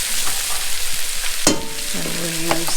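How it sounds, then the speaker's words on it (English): About three stalks of leeks fry in butter over medium heat, a constant crackling sizzle with a sharp clack and then scraping stirs from a wooden spoon. "And then we're gonna put it in the butter. This is about 3 stalks of leeks"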